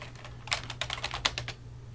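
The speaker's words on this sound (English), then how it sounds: "so we can use our keyboard" Quick bursts of keystrokes on a computer keyboard, a handful of soft clicks over about a second, close and faint above a steady low electrical hum.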